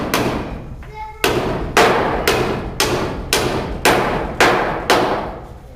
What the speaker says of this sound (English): Now it's time to nail in this one.